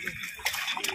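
Water sloshes and splashes irregularly in a flooded spot, soft and uneven, with faint background murmurs.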